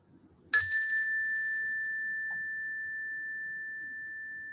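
A single meditation chime is struck once to open a mindfulness session, ringing out clear and bright, then sustaining a pure tone that fades very slowly into silence for several seconds.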